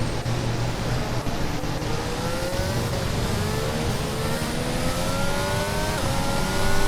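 F1 race car in the F1 22 racing game, engine droning loud and steady with rising gear-by-gear pitch sweeps as it accelerates, swelling slightly at the end, no talk.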